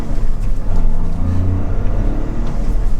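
A 2023 Toyota GR Corolla Circuit Edition with its turbocharged three-cylinder engine pulls away on a test drive, giving a steady, loud engine drone with low harmonics that rise in pitch as it accelerates, heard from inside the car.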